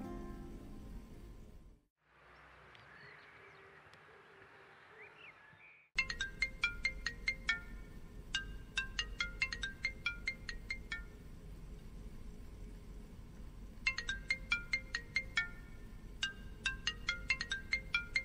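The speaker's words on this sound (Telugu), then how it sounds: "ఫోన్ రింగ్ అవుతుంది." A phone ringtone plays in repeated bursts of bright, chiming electronic notes at moderate volume, after a quiet stretch with faint background sound.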